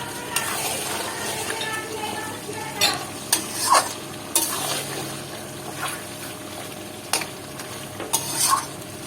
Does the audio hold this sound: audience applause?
no